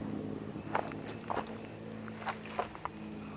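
Footsteps of a person shuffling sideways to the left, a few soft, uneven steps close by against a steady low room hum, with no voices.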